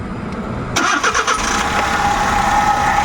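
A Suzuki Every Wagon with a misfiring engine cranks briefly and catches, then settles into a steady, close idle.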